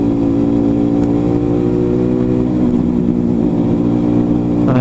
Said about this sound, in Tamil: எக்ஸாஸ்ட் நோட்டு வந்து உங்களுக்கு நல்லா கேட்கும்னு நினைக்கிறேன்